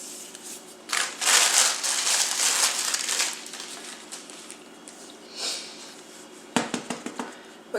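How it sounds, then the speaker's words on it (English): Metal wing cutters snip through thin orchid petal material in a series of close, crisp crinkling cuts, busiest early on and returning as sharper clicks near the end. "Take your wing cutter and we're going to cut 2 petals."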